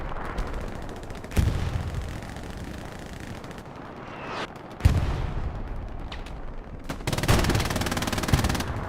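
Machine gun fire in the WWII shooter Hell Let Loose on the Saint map, sustained rattling bursts with sharp close shots punctuating a continuous din of battlefield gunfire.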